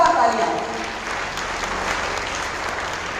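At a school award ceremony at Tagore School in Taranagar, a large audience bursts into loud, sustained applause, dense clapping that fades slightly after the opening burst.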